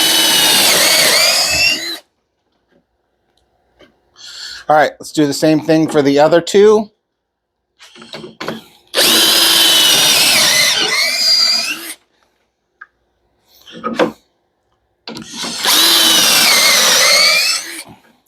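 A power drill bores dowel holes into wood through a Milescraft Jointmate dowel jig, in three loud sustained runs of a few seconds each, separated by pauses where someone speaks briefly.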